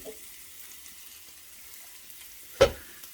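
Corned beef hash fries in a pan with a faint, low sizzle, then one sharp clatter rings out near the end.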